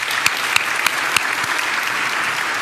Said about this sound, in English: So applause for all of you.